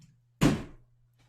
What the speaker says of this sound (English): oops, my door flew open.